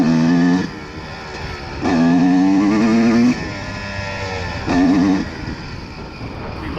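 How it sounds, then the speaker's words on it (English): A used dirt bike held at full throttle in third or fourth gear; loud, close engine drone rising in sustained revving surges, three strong pulls separated by quieter idling stretches, with no talk. "Just gonna put it into like third gear, fourth gear, and then give it full throttle and see if it's slipping or not."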